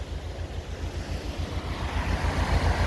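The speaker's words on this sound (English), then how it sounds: "So the lock's now draining" Water drains from a canal lock at Tinsley near Sheffield, making a continuous low rushing rumble that grows slightly louder toward the end, with no voices.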